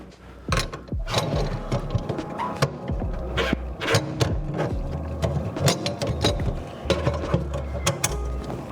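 A flathead screwdriver works loose a garbage disposal lock nut, giving a series of close metallic clicks, scrapes and ratcheting knocks in an uneven rhythm, alone without talking.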